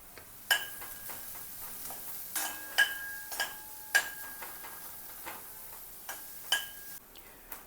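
A metal spatula stirs chicken kheema with turmeric, chopped garlic and ginger in a pan, giving a run of sharp clinks and scrapes at irregular intervals, close and fairly quiet, with no talking.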